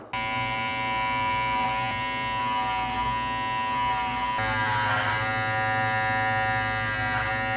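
An electric shaver trimming a mustache buzzes steadily and loudly up close, a continuous motor whine with slight shifts in pitch as it moves across the hair, with no talking.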